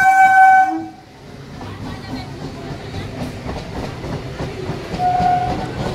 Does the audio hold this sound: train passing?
yes